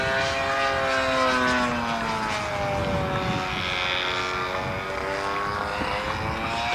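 A model airplane engine in flight with a buzzing propeller drone whose pitch slowly glides as it passes, steady and moderately distant, with no talk over it.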